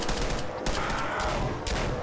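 Rapid gunfire from a large-magazine gun in a Roblox zombie-outbreak game, a dense continuous volley of loud shots across the whole stretch with brief bursts standing out.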